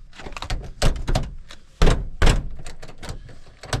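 Shop door on a family farm being pushed open, a series of loud rattling thumps and scrapes, close by, with heavy knocks near the middle.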